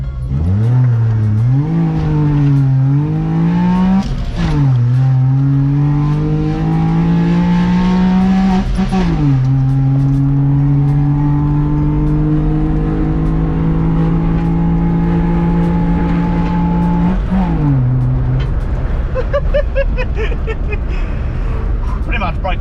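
A modified Honda Life kei car accelerating hard to high speed, its engine rising in pitch through several gear changes, loud and close, with talk over it.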